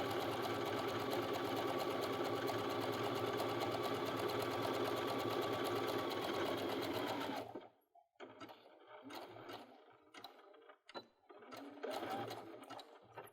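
Sewing machine zigzag stitching over a cord to gather fabric, a loud steady rapid run for about seven seconds, then stopping with some irregular handling clatter.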